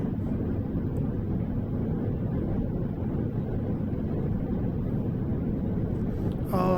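A steady, loud rumble of an airliner taxiing after landing at Moscow's Sheremetyevo Airport, heard from inside, with constant engine and cabin noise and no voices.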